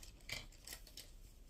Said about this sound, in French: donc là je vais couper sur les bords ici. Je vais prendre ma petite paire de ciseaux.